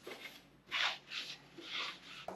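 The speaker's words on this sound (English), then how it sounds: "Next, some quick fun with sanding." Sanding a Donkey Kong arcade cabinet's coin box by hand, several quiet raspy strokes back and forth in short bursts, faint and close with no talking.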